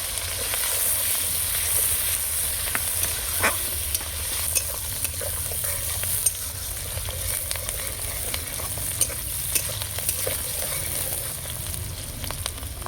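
Capsicum and onion browning in a frying pan make a steady, moderate sizzle with intermittent scraping and stirring clicks throughout, with no voices.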